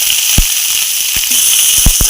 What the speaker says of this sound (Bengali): এবার আমি কাঁচা টমেটোটাও দিয়ে দেবো, এটাও ভেজে নেব।